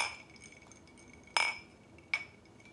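Glasses clink together in a toast over drinks, two sharp, bright chimes a second apart that ring briefly and fade against a quiet room.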